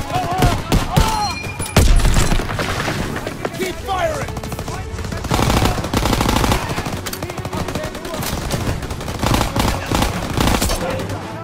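Call of Duty WW2 battle gunfire: loud, close machine-gun bursts and rapid rifle fire blend into a dense, continuous fusillade, with faint game voices in the mix.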